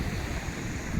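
Ocean waves breaking on a beach on a cold morning, a broad continuous rushing wash mixed with wind buffeting the microphone, no voices.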